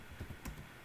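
Computer keyboard typing, heard as faint, soft key taps in a quick run over low room hum, with no voice over them.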